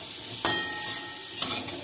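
Ghot kochu (taro) frying with turmeric in a pan gives a steady soft sizzle, broken by two brief stirring scrapes; no one speaks.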